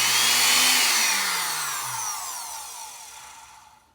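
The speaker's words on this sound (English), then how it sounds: "watch the motor output shaft, and I'm going to turn it on" Rebuilt Black and Decker 507 power tool motor clamped down on a bench, a whining spin that starts loud and gradually winds down in pitch and volume until it fades out.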